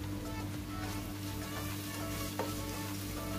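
Spices, including ground cumin, are stir-fried in a pan for a Kerala-style mackerel curry made with coconut milk. The frying gives a quiet, continuous sizzle with one faint stirring clink. No one talks.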